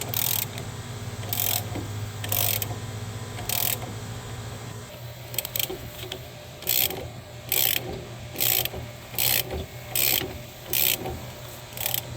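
Repeated ratchet wrench clicking in short bursts, close and loud, as an 18 mm lower strut bolt is loosened on a 2016 Dodge Charger R/T during an engine replacement, with a steady low hum underneath.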